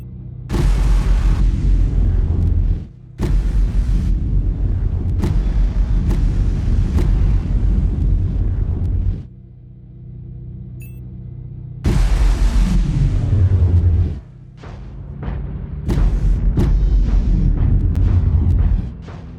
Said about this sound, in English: I'll play the laser sounds because they can be quiet, as intended.